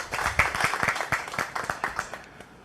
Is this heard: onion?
no